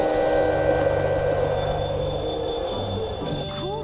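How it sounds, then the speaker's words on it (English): A train rolls past at a level crossing, a steady loud rumble with high metallic ringing tones and a squeal of wheels near the end. "It's fun to ride the train, isn't it?"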